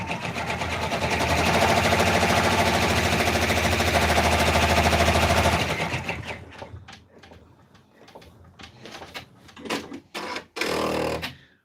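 An embroidery machine stitching a contour on fabric in the hoop for a stuffed raccoon toy, a loud steady rapid needle chatter that stops partway, followed by scattered handling clicks and rustles.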